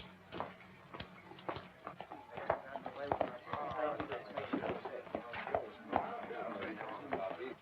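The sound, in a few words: horse hooves clip-clopping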